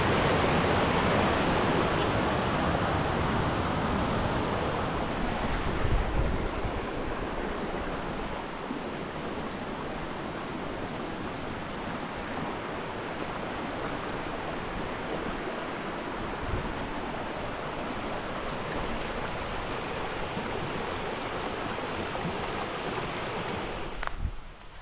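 Rushing river water on a Nantahala Forest hiking trail in North Carolina, a steady, loud, broadband roar that fills the whole stretch close by, with no talk over it.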